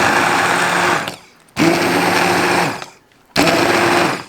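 A kitchen blender purees boiled banana peels in three loud, steady whirring bursts, each cut off by brief silence between them.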